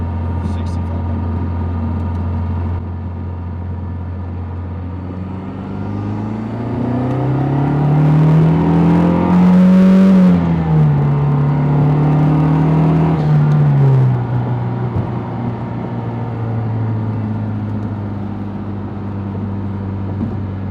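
A Mazdaspeed 3 engine climbs through a third-gear pull from low revs to about 6500 RPM, the drone rising steadily to a loud peak and then dropping back, heard alone.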